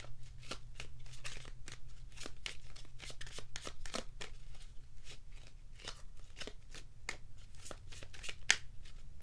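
A deck of Fortune Cookies oracle cards is shuffled by hand, giving a steady run of quick, crisp riffling flicks and soft card slaps close up, with no talk over it.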